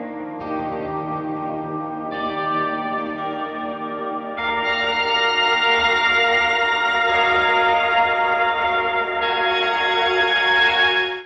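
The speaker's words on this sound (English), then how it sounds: "The next algorithm is actually a category of effects, and it's the granular sounds." Ambient guitar through a granular effect, sustained shimmering chords with stacked overtones that swell louder midway and hold steady, playing alone without talk.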